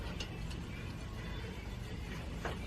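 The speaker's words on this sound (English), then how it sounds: "So he's just getting all the Phillips bolts out" Phillips bolts are being removed from the clutch case of a KLX 110 pit bike, with faint ratcheting clicks and small metallic ticks over a low background hum.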